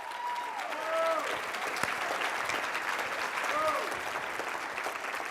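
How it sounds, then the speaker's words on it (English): Live-event audience gives a round of applause for a speaker, steady crowd clapping throughout with cheers and whistles rising over it and a few voices calling out. "Give a great round of applause to Mark Waldman."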